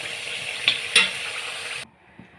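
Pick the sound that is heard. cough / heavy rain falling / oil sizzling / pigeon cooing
oil sizzling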